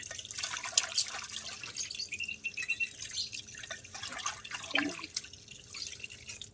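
Tap water running and splashing while dishes are washed and a kitchen sink is scrubbed, a steady faint hiss with scattered drips and clinks.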